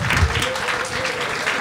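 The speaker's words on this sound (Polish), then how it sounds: "Brawa dla Crackspotu." Audience clapping for KrakSpot at a live event, a steady dense round of applause from a crowd, fairly close and continuous for the whole stretch, with a faint voice underneath.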